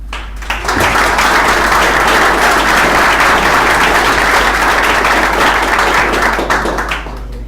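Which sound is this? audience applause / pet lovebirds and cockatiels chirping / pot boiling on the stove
audience applause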